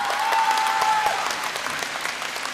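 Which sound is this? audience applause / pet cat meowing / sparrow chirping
audience applause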